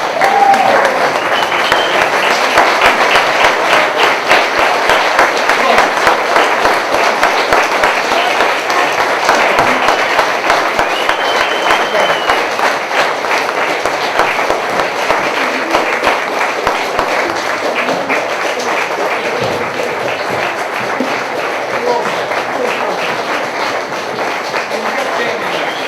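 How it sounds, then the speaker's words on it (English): A large theater audience applauds through a standing ovation after a play, dense continuous clapping with some cheering and voices mixed in, steady and loud from start to finish. "Can we all stand up and give them the last round of applause?"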